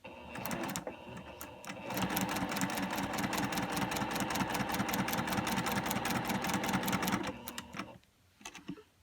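Domestic sewing machine stitching quilt fabric for a quilt block, a steady rapid mechanical chatter that runs for several seconds before stopping, close and fairly loud, with no talking.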